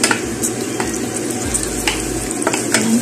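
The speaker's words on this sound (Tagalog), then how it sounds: "nag-init tayo ng mantika. Lagay natin yung bawang." Minced garlic dropped into hot cooking oil for Filipino adobong sitaw, a steady close frying sizzle with stirring scrapes throughout.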